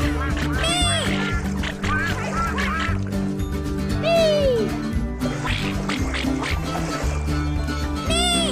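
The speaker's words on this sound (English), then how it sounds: "Quacky birds fly over the sea" Cartoon ducks quack in repeated bursts over a continuous musical backing in a children's animated programme, the calls loud and close, rising and falling throughout.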